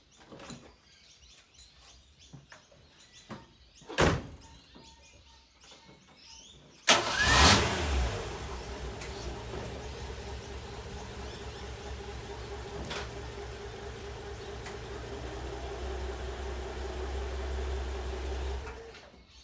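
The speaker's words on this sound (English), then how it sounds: "I'm going to now start the car and we will reverse it off those blocks." A 1960 XK Ford Falcon engine cranks and catches with a sharp roar, then idles steadily at a low rumble, after a few knocks and clunks beforehand.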